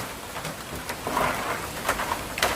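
Heavy rain pours steadily during flash flooding in Trinity Ville, St Thomas, a dense continuous hiss with scattered louder splashes, no talk.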